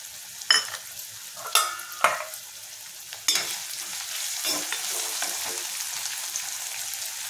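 Cumin and mustard seeds dropped into onions frying in oil, several sharp clattering stirs and pops over a low, steady sizzle that grows fuller toward the end.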